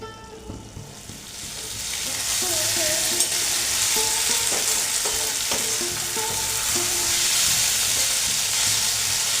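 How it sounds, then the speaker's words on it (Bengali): Potatoes and poppy seeds fry in a pan for a dry aloo posto, with a loud continuous sizzle that swells after the first two seconds, plus light scraping from occasional stirring. "আমি কিন্তু পোস্তটা দিয়ে একটু একটু ভাজা ভাজা করছি"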